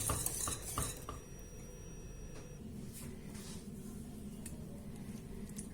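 Utensil scraping and clinking against a pan as warm butter cream for an apple tart is transferred into a mixing bowl, a few sharp metallic knocks at first, then soft quiet scraping.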